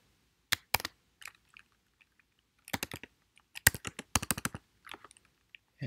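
Someone types code on a computer keyboard, close crisp clicks in irregular bursts with short pauses between runs of keystrokes, and no talk.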